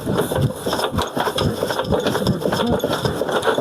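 Irrigation water pump motor on a rural farm, running round the clock, drones steadily and loud throughout with a dense rattling mechanical texture and no talk.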